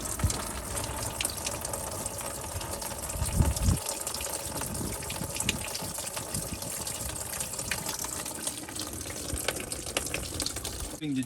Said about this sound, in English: And now we got a gusher.